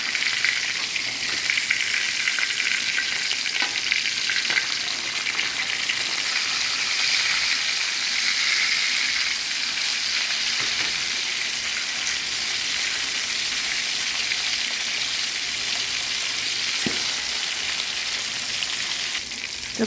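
Salmon for teriyaki sizzles steadily in a hot pan, a dense, even crackle of frying oil that holds at a constant level throughout, with no voices.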